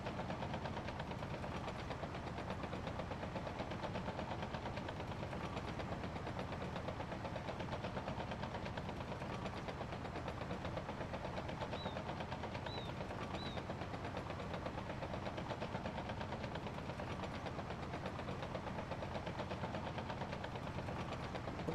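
A Fiat Allis bulldozer idles steadily in Farming Simulator 25, a constant low mechanical rumble with faint knocking that holds unchanged throughout with no voices.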